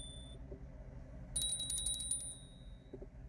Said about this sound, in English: I'm going to clear the air with some bells here